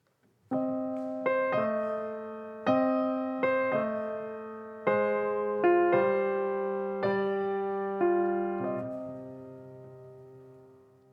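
Solo piano plays a slow passage of struck chords, upper melody over a simple bass line, each note ringing and decaying, fading at the end.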